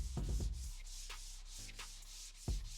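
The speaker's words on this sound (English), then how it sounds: "I'm gonna go over it using my softer side of the sanding block" Quiet, repeated rubbing strokes of a sanding block on wood, a soft scratchy rhythm of back-and-forth passes.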